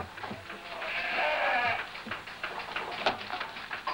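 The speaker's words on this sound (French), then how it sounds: "La race Laconne a été choisie pour faire du lait de brebis parce que c'est une race qui est mixte" Lacaune dairy sheep, a mixed milk-and-meat breed, bleat on a farm: a drawn-out, wavering bleat rises in the middle, with scattered shorter calls and general barnyard bustle around it, no talk.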